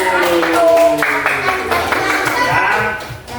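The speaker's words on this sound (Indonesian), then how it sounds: "Beri tepuk tangan untuk kelompok 1." A classroom group claps in applause for the first group, the scattered clapping mixed with children's voices throughout.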